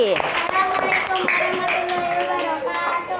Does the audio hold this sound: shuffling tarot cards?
no